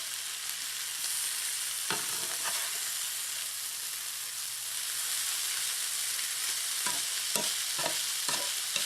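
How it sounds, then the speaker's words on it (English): A chicken and cheese bread mixture is stirred while frying, giving a steady sizzle broken by a few soft scraping strokes, some near the start and a cluster toward the end. There is no speech. "You want to mix it up just a little bit and make sure that everything gets incorporated well."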